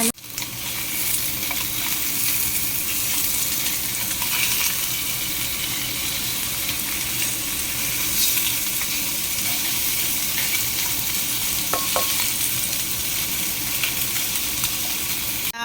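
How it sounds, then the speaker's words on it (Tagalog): Fish frying in hot oil in a pan, a loud, continuous spattering sizzle held close and steady with a few sharper pops, no voices. "Fry muna natin ang isda. So matalsik. Fry natin ang isda."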